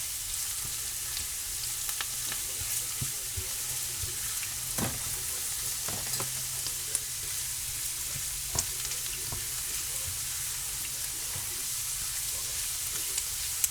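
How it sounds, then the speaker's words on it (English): Onions soften in a hot pan for a budget pantry meal, giving a steady, close sizzle and crackle throughout, with occasional scrapes and clicks from a spoon stirring. "So we're going to stir this until our onions are softened."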